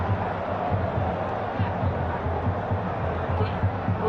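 A football stadium crowd at a Fluminense versus Italy match murmurs and roars as a steady, distant wash of noise, with a commentator's voice running over it.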